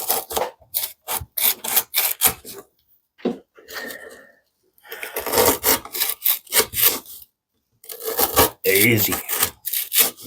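A Kizer Mini Grouper knife saws through a hard 3/4 inch jute rope in a series of rough, rasping strokes, close and loud, with pauses between bursts and a brief spoken word.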